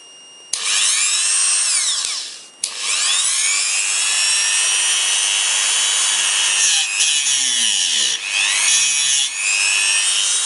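A Dremel rotary tool cuts through an electrical cable from a brake pad warning sensor, a loud high whine that bogs down and rises again in pitch as it grinds, with brief pauses between passes.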